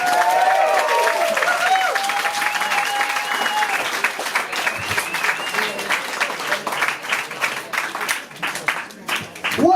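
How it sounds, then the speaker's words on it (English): Warm audience applause with some cheering and shouted voices, starting as a loud wash of clapping that thins into distinct, closer individual claps toward the end. "So I want to give him a round of applause for that"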